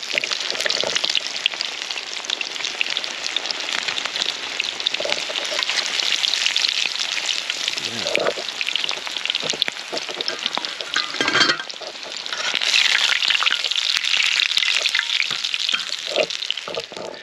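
Schnitzel fries in a pan with a dense, continuous close sizzle and crackle of hot fat, rising and falling slightly over the whole stretch.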